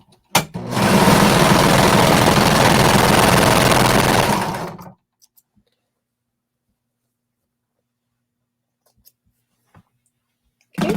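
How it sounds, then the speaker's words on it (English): A home sewing machine stitches the center seam of a bralette lining, whirring at a fast, even pace for about four seconds before stopping abruptly, followed by near silence with a few faint clicks. "We're just going to sew along the center seam here."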